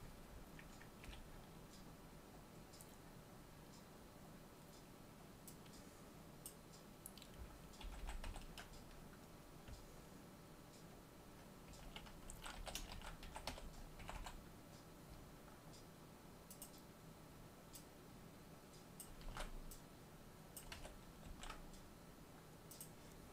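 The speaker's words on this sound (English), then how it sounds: "I can't type today." Soft, rapid keyboard typing runs steadily under a quiet room hum, with clusters of keystrokes bunching up and easing off, fairly close but low in level.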